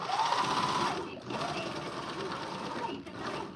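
A sewing machine stitches elastic and cover stitch on dancewear in a steady, close, continuous whir that dips briefly twice.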